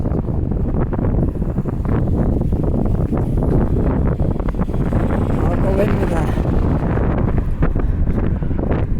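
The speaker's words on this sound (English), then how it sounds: "You can tell it's windy out" Steady, loud wind buffeting the microphone outdoors downtown near Scotia Square, a constant low rumble with gusty fluctuations throughout and no one speaking.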